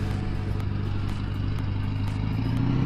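ATV and truck engines rumble at a lake campsite on Sand Lake, a loud, continuous, gritty mechanical drone with a rising engine tone toward the end and faint clattering throughout.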